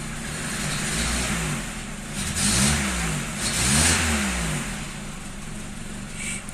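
A rebuilt VAZ 2106 engine with a newly fitted cylinder head runs at its first start, revving up and down twice in rising and falling sweeps over a steady rough idle, close and loud.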